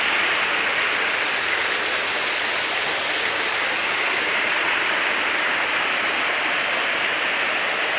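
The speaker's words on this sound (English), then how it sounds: "So this is the stream that goes in" Stream water rushes steadily and evenly, a constant close wash with no pauses, at a stream feeding a rock-wall dam.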